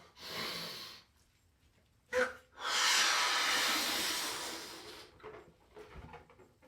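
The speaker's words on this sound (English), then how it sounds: "I'm going to be breathing out carbon dioxide, and it's going to go inside of the balloon, like so" A person blows breath into a balloon in two long, forceful exhalations separated by a quick sharp inhale, close to the microphone, with a soft rustle between puffs.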